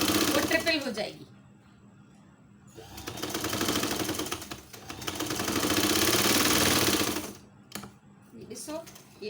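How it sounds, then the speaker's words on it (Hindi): A sewing machine runs in two long bursts of fast, even rattling while stitching a diaper cover, with a voice speaking during the pauses between runs. "और अब हम इसको वापस सिलाई करेंगे"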